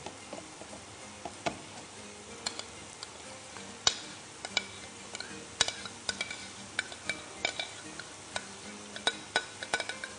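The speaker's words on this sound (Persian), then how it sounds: "با یه وسیله مثل این خیلی آروم برنج توی آب هم بزنید" Soaked rice being stirred slowly in boiling water, with scattered light clicks and taps of the utensil against the pot over a soft bubbling background, irregular and fairly close.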